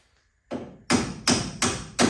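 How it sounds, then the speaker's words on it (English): A hammer strikes the knurled studs out of a car spindle during race car prep, four loud sharp metallic blows in an even rhythm after a softer first hit. "you hit them with a hammer and knock the knurl out of the spindle"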